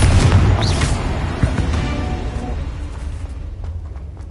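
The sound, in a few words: spell explosions (Bombarda, Confringo) in the video game Hogwarts Legacy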